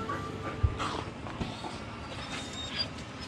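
Hunting hounds pant and whimper faintly at a morning stop while being collared before a bear hunt, with soft rustling and a few brief thumps in a quiet outdoor setting.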